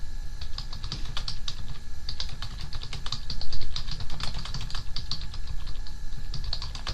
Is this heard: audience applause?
no